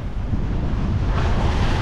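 Strong wind buffets the microphone over the steady wash of waves against a moving fishing boat on a windy day, loud and continuous throughout.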